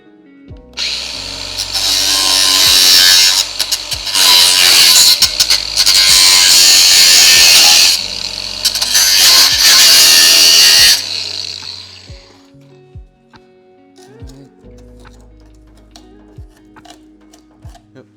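An angle grinder with a worn disc cuts through welds on a Datsun 280ZX body, giving a loud, harsh screech in long bursts with brief dips and scraping bites into the metal, then spinning down into quiet clicks and taps.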